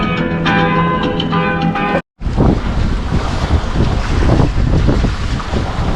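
Sailboat Ocean Rose under way in open water, with steady loud wind buffeting the microphone and the rush of water and waves along the hull after a brief cut.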